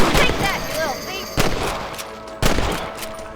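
Rifle shots at rabbits in Red Dead Redemption crack out in two sharp, loud reports about a second apart over faint outdoor ambience.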